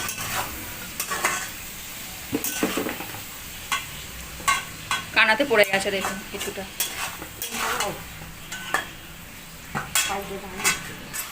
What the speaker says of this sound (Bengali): হালকা হলুদ দিয়ে ভেজে তুলে নেওয়া হবে চিংড়ি মাছগুলো